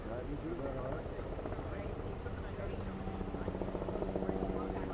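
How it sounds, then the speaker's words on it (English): A helicopter drones overhead at a fire scene at an affordable housing construction site, a steady rotor rumble running continuously beneath people talking nearby. "I hear a chopper."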